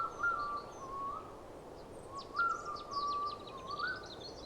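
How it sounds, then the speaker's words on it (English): An Oriental bay owl calls with repeated drawn-out whistled notes, three clear phrases over a faint hiss, with high twittering in the background. "Oriental bay owl."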